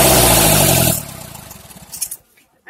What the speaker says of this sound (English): Let's listen to Morris Minor open headers.